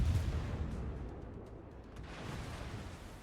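Warship guns firing in World of Warships, a Gearing destroyer shooting during a ranked battle, heard as deep booming low rumbles and rolling blasts that decay into a sustained heavy roar.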